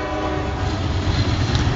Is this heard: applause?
no